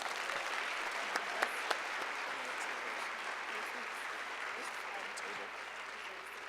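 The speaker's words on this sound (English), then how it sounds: "let's have a big round of applause for Ryan and Lila." Audience applause fills a conference hall at a student event, steady dense clapping at moderate distance sustained throughout with a few sharper claps near the start.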